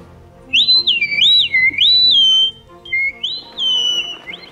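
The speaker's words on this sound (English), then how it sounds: "That's the dino whistle." A cartoon dino whistle blows a bright, wavering high-pitched tune in several looping phrases, loud and clear over a soft background, with a short pause before a final sustained call.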